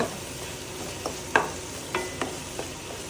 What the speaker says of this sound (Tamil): இதில் இஞ்சி பூண்டு பேஸ்ட் ஆட் பண்ணிக்க போகிறோம். ஆட் பண்ணிவிட்டு நல்லா வதக்கிக்கோங்க.